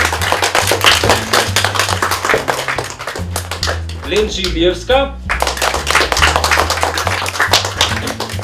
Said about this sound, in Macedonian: ако може еден голем аплауз за Александра Јанева